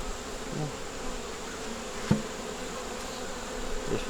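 Honey bees buzz steadily at an open nuc hive during a box check, a close, continuous drone with one brief knock partway through.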